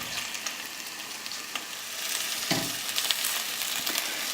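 Onion halves searing cut side down in a hot pan for pot roast, a steady bright sizzle that swells louder midway as more pieces hit the oil, close up with no talking.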